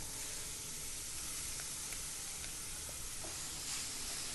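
Finely chopped onion and cabbage sautéing in a pan for momos filling, a steady broad sizzle and hiss with a few faint clinks, even and uninterrupted throughout.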